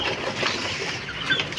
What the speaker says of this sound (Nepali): के ब्रिड रहेछ त्यो भाले?